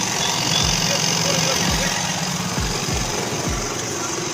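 A Hero Maestro scooter engine idles close by, its slightly cracked silencer adding a rough edge to a steady chugging beat with regular pulses, while someone talks over it.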